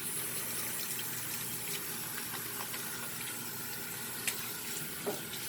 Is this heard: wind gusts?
no